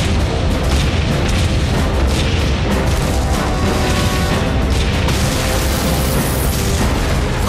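Heavy artillery barrage from the Battle of Kursk's northern front in World War II, a dense, continuous roar of booming explosions and bursts at loud volume, with no clear gaps between blasts.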